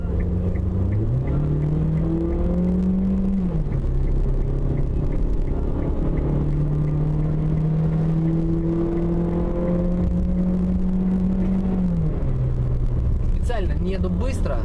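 A car drives up a serpentine mountain pass road. The engine drones steadily and loud, its pitch rising and falling as it shifts and climbs through the curves. Someone talks over it at times.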